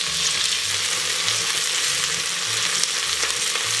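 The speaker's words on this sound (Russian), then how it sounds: "Обжариваем лук до полупрозрачного состояния в течение 2-3 минут." Chopped onion frying in oil in a kazan, a dense, even sizzle with stirring that stays loud and close throughout, with no voices.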